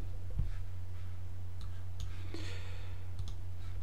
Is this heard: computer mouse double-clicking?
yes